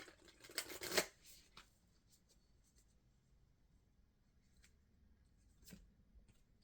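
Oracle cards from the Radical Abundance deck are handled with a quick papery rustle and shuffle near the start, then only faint, sparse ticks and slides in a quiet room.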